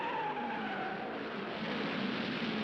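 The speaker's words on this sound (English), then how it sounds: "another look at the massive wreck on the first lap" Race cars skid and squeal in the massive first-lap chain-reaction wreck at the 1966 Indianapolis 500, a dense, continuous roar of engines and screeching tires at full intensity throughout.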